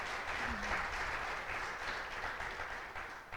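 A church congregation applauding at a small-group gathering, a soft, continuous wash of clapping from many people that fades slightly toward the end, heard from some distance without speech.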